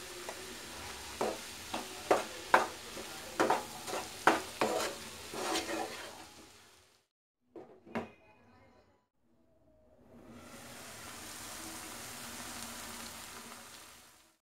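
Mushroom masala stirred in a pan with a run of rhythmic scraping strokes over a sizzle, close and fairly loud, then a pause, a couple of clanks and a quieter lingering sizzle.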